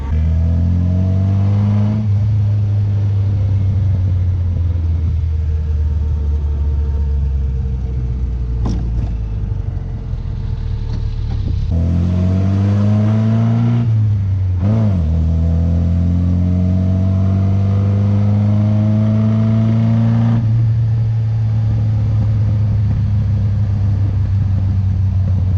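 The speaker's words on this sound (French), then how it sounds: "Celle-ci à l'échappement sport, c'est retour sur retour sur retour, écoutez." Sport exhaust on a classic Triumph sports car revs hard in repeated bursts, with deep rumbling and rising engine pitch between blips, loud and close with no talking.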